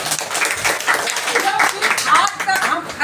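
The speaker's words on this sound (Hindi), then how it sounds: "एक बार उनके लिए जोरदार ताली" Loud applause from an audience at an RCM business meeting: dense, steady clapping that fills about three seconds, with crowd voices mixed in.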